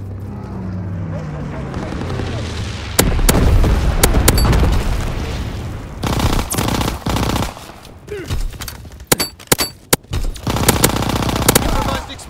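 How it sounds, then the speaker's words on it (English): Incendiary airstrike in Call of Duty: WWII, heavy booms and bursts of machine-gun fire crackling in a busy battlefield, loud and close, with sharp volleys and rumbling blasts, and radio voices talking through the action. "Dropping incendiary."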